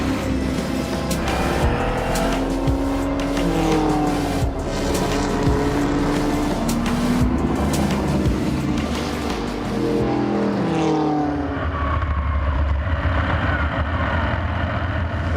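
Porsche 917 race car at the Hockenheimring CanAm Revival, its engine roaring loud and continuous with rising and falling revs through gear changes, passing close, then fading as it drives off.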